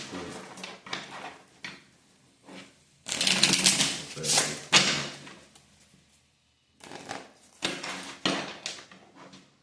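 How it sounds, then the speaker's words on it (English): Tarot cards are shuffled in several riffling bursts with short pauses between them, close to the microphone. "Get a little shuffle in, see what these cards want to tell us real quick."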